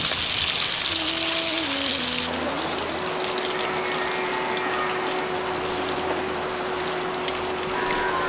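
Boiled eggs frying in oil with turmeric and salt for a village-style egg curry, a steady loud sizzle and hiss throughout, with a low tonal hum underneath and no talking.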